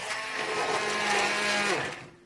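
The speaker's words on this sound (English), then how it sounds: "outlet to plug in my stick blender" A stick blender whirs through a mixture of pineapple juice and apple cider vinegar, a loud, steady motor drone lasting about two seconds before winding down, with no talking.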